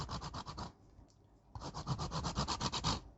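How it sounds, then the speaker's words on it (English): Lime zest grated for a chocolate cake: close, rhythmic rasping strokes in quick even runs, a short pause, then a longer run of scraping passes. "Now I'm going to grate some of the lemon zest."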